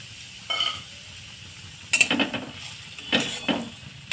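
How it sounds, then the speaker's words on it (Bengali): Semolina frying in refined oil in a pan, heard as faint sizzling with intermittent scraping and stirring bursts from a utensil against the pan, quiet and close with no talking. "ওই রিফাইন অয়েলের মধ্যেই আমি সুজিটাকে ভালোভাবে ভেজে নেব"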